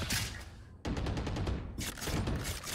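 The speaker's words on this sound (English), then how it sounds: "Placing swarm grenade." Killjoy's swarm grenade being deployed in Valorant, heard as a rapid rattling series of small bursts, loud and close, with a brief gap before a second volley.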